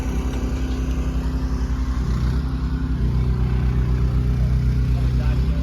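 A Split Fire 4090 chipper shredder with a Honda motor runs at a steady, loud, pulsing engine drone that rises slightly in pitch partway through, close and continuous.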